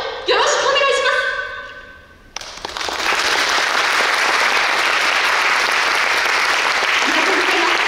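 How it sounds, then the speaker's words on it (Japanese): An audience at a high school marching band rock festival bursts into loud, sustained applause after a brief tonal passage, the dense clapping filling the rest of the stretch without pause. "最後まで温かいご声援拍手をよろしくお願いします"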